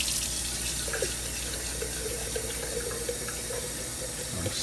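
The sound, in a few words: tap water filling a jar of broccoli sprouts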